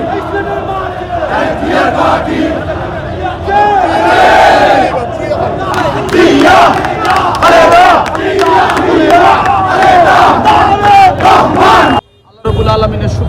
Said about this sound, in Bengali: সিলেট জেলা এবং মহানগর বিএনপির পক্ষ থেকে আনন্দ মিছিল করেছি